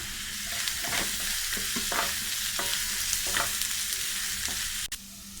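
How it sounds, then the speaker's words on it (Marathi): Spatula stirring chopped onion with cumin, mustard seeds and curry leaves as it fries in a pan for a Maharashtrian val bhirda, steady close sizzling with repeated scraping strokes, no talk. "कांदा चांगलं मिक्स करूया"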